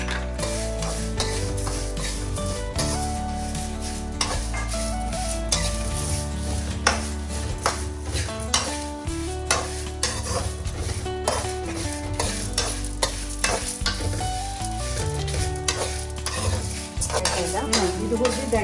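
Dry coconut and curry leaves roasting in a pan, a continuous close scraping and stirring with faint sizzle and rhythmic clinks of the spatula against the pan, no talking.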